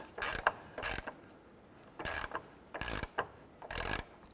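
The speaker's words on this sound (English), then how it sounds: "Using our 15-16 socket and our 24 millimeter on the nut, let's go ahead and snug this down." A ratchet and socket tightening a trailing arm bracket bolt on a 2006-2013 Chevrolet Impala, several close bursts of rapid mechanical clicking separated by short pauses, with no talk.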